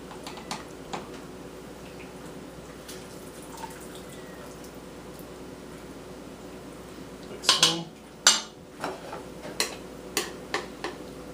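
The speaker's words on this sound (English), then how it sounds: "We'll slice into a couple pieces here." Knife slicing rested corned beef on a board: faint, sparse scraping at first, then a cluster of sharp clicks and taps as the blade meets the board, close and alone without talk.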